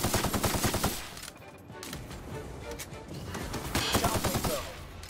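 Gunfire in The Outer Worlds while fighting a gun turret: bursts of rapid shots at the start and again near the end, with a quieter stretch between.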